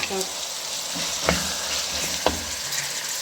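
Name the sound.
potatoes and peas frying with tomato masala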